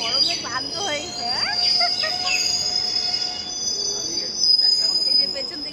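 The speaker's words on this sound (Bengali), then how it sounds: "এই যে পেছন দিকেও ট্রেন চলে আসলো, এই দিকেও ট্রেন চলে আসলো" A train pulls into a railway platform with high, drawn-out wheel squeals over a steady rumble, fairly close and loud, while people chatter in the background.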